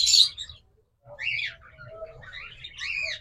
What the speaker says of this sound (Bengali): এরপর রয়েছে এখানে আরেক জোড়া লাভবার্ড।